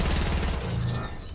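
Rapid gunfire during an attack in Fortnite, a dense burst of shots up front that thins out, mixed with game sounds and some voice.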